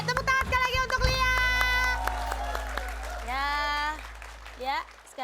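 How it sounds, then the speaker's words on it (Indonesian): A studio audience on an Indonesian TV comedy show gives scattered applause, the clapping heard faintly beneath voices and other vocal sounds. "Tepuk tangan sekali lagi untuk Lia."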